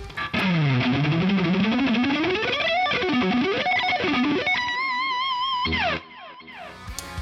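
Electric guitar run through distortion and effects units, playing sweeping bends and slides up and down the neck, loud and sustained alone, ending in a shimmering warbling chord that cuts off near the end.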